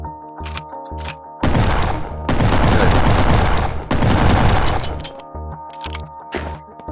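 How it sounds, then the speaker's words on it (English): Shotgun fire and handling in the VR game Gun Club VR, including a classic M1897 model: several loud sustained bursts of gunfire separated by short mechanical clicks and clacks of loading and racking. "Here we have another crazy shotgun."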